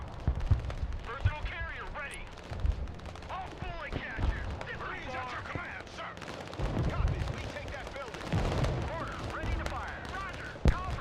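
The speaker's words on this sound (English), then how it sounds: "Some more mortars on there." Mortar and gunfire from the war game Broken Arrow rumble in repeated low booms and crackling bursts at moderate distance, layered under dense battle noise and players' voices.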